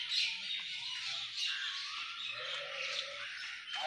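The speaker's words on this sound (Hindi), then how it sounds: "परिंदों के चहचहाने की आवाज़" Birds chirping steadily in the distance around a huge banyan tree in Pakistan, several overlapping high tweets forming a soft, continuous chorus.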